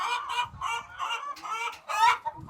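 Free-range egg-laying hens in a poultry barn give a chorus of repeated clucks and squawks, close and clear, with overlapping calls in irregular bursts and no talking.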